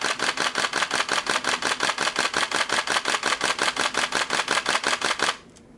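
Nikon D600 DSLR shutter firing in a rapid continuous burst from about five to six feet away, around twenty-five crisp evenly spaced clicks, then it stops abruptly into quiet.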